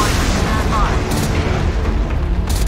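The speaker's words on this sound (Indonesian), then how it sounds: "Ayo, roket gue udah siap menembak." Rocket launched from a warship in the naval combat game Modern Warships: a loud, dense roaring blast fills the whole stretch, a continuous booming rush with no pause.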